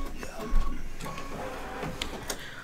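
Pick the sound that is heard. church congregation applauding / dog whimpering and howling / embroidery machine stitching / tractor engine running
embroidery machine stitching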